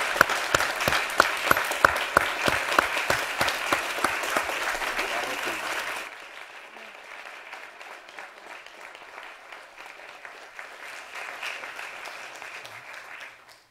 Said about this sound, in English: how about another round of applause for our distinguished panel this evening?